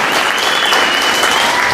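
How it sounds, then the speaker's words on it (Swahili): A crowd at an outdoor gathering applauding a bishop, with dense, steady clapping that holds loud and unbroken throughout. "Tupigie askofu makofi."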